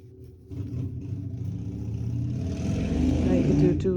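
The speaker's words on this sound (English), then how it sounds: "motorcycle noise in the back" A motorcycle passing outside gives a low engine rumble that swells and grows steadily louder toward the end, heard from indoors as steady background noise.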